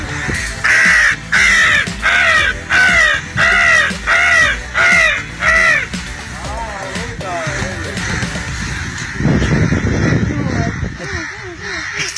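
A voice mimics a crow cawing: about nine loud, evenly spaced nasal caws in quick rhythm, followed by rougher, looser vocal noises.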